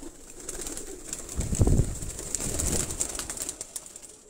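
A flock of flying pigeons at a keeper's loft gives soft cooing and a brief rustle of wings, low and fairly faint against steady background hiss, with no one speaking.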